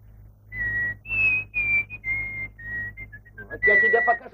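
A person whistles a sustained, bright tune near a guardhouse, several clear held notes in a row, loud and close with no talking.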